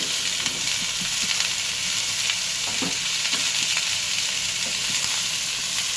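Snake gourd (chichinga) and onion frying in a pan, a constant close sizzle and hiss with intermittent stirring scrapes and taps, no voices.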